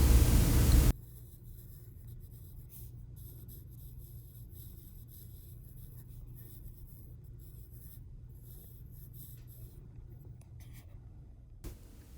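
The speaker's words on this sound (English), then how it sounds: "I'm using an H pencil, actually a 2H pencil, so I make sure that my lines are very light" A 2H pencil scratches softly across paper while tracing light lines, a faint, continuous rubbing texture that runs steadily after a brief louder burst at the start, with no talking.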